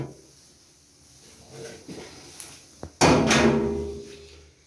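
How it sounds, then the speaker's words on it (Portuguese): Metal cover being pulled off the side of an electric oven under repair: scattered light knocks and scrapes, then a loud clattering rattle as the panel comes free, fading out over a couple of seconds. "Agora é só remover a tampa, né?"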